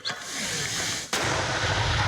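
A heavy 120 mm mortar fires a ranging shot: one sudden, powerful blast cuts through the background, followed by a loud, lingering roar and rumble.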